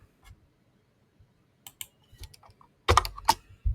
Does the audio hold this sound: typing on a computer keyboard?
yes